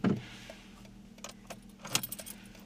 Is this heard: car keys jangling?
yes